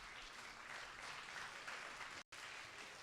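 A spelling bee audience claps for a contestant, giving a steady, even round of applause at moderate distance that briefly cuts out near the end before resuming.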